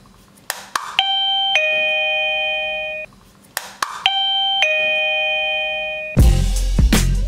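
A compact wireless doorbell receiver plays its melodic electronic chime twice in a row, each a loud, clear sequence of sustained tones, followed by a burst of louder noisy sound at the end.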